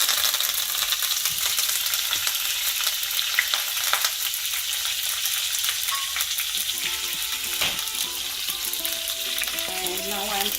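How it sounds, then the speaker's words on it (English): Mustard seeds, chili and curry leaves sizzle in hot oil for a tadka, a steady dense frying hiss with scattered sharp pops and crackles throughout, close and fairly loud, no talking. "Now I am giving tadka, that is mustard seeds in the oil, and it will pop up"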